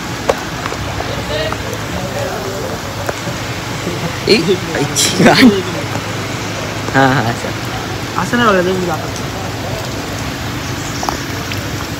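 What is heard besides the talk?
heavy monsoon rain falling at a farmhouse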